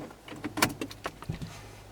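A key slides into the ignition of a 2018 Mercedes-Benz C-Class Cabriolet, giving a quick run of small metallic clicks and scrapes, close and fairly quiet, with no talking.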